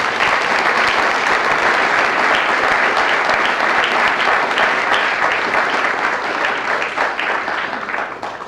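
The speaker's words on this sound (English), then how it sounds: "How about a round of applause for AACS?" Audience at a school committee meeting breaks into loud, sustained applause, dense and even throughout before easing slightly at the end.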